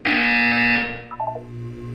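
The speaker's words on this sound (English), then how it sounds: "You will hear a buzzer." A harsh, loud electronic buzzer from the Portal 2 video game sounds for under a second, then gives way to fainter tones and a low hum.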